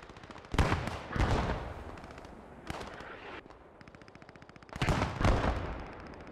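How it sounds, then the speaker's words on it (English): Rifle shots and bursts of machine-gun fire ring out in a Post Scriptum battle, sharp cracks clustering in loud volleys near the start, middle and end, separated by quieter rattling stretches. "Rifle and machine guns going over their heads."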